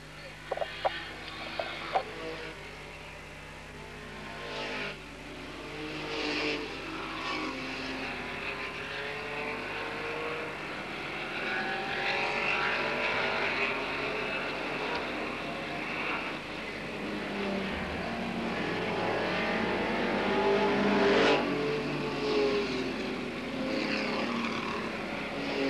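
Super rod race cars on the final lap, a continuous buzzing engine drone that swells and shifts as the cars pass, with no clear speech.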